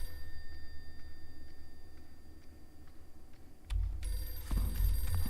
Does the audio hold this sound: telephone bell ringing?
yes